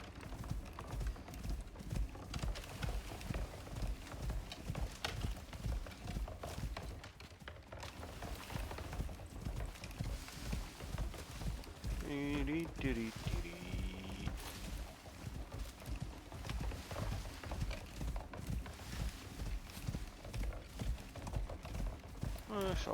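Horse hooves clip-clopping in the survival game Icarus, a steady rhythmic patter of hoofbeats running throughout, with a brief pause midway and a person talking over it at times.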